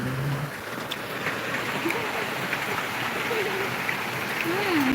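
Heavy rain falling over a flooded housing complex in Palembang, a dense, steady hiss of downpour throughout, with faint voices talking underneath.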